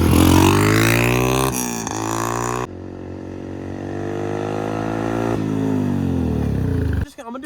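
A Honda CRF100 dirt bike, running without nitrous, screams through a full-throttle pull up close, its rising engine pitch broken by quick gear shifts before the throttle chops off at the end.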